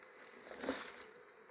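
Honeybees hum softly around a hive in eucalyptus country, a faint, steady insect drone that swells briefly, heard alone without voices.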